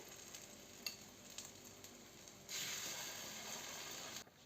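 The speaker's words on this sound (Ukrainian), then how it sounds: "Будемо обсмажувати так усі" Steady sizzling of potatoes frying in a pan, a soft hiss that grows louder and brighter partway through, with a few faint scrapes and clicks.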